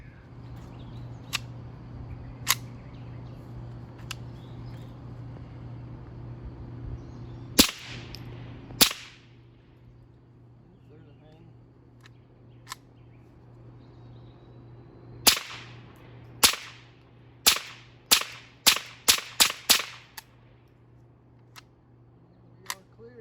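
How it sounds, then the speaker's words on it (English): A suppressed Ruger 10/22 Charger .22LR pistol fires at an outdoor range, muted cracks spaced out at first, then a quick run of about eight shots near the end, over a steady low background hum. "we'll go out to the range and put a few rounds through it, and we'll see how it does on suppressed fire"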